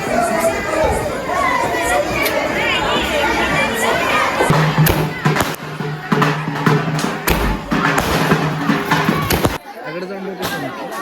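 Firecrackers set off at a Diwali celebration to welcome arriving guests give a quick run of bangs and crackling pops, heard among loud crowd cheering and children shouting.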